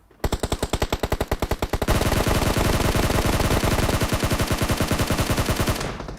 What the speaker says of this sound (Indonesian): Gue nembak mobil kok nggak meledak sih